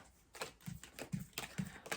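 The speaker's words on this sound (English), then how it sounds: "I'm going to give the cards an extra shuffle just for good measure" Tarot cards shuffled by hand give a steady run of soft, papery riffles and taps, repeating in a regular rhythm at low volume with no talk.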